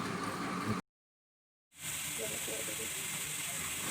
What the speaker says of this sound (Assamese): পিঁয়াজখিনি এতিয়া মই 2 মিনিটমান ভালদৰে ভাজি ল'ম।